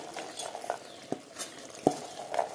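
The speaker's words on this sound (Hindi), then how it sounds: "राजमा को हम मिक्सिंग कर दिया है, मस्त लग रहा है ये सब्जी तो।" Cooked kidney beans (rajma) stirred in a pot with a spoon, giving a few sparse, soft scraping and clinking taps against the metal at quiet volume, with no talk.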